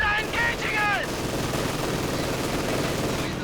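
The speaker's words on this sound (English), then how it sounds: "Guard rifles moving straight through an MG42, and it's rapid fire, and there you go, pinned down." An MG42 machine gun in Company of Heroes 2 rattles off rapid continuous bursts, a dense, harsh clatter that fills the scene after some brief tonal game sounds at the start.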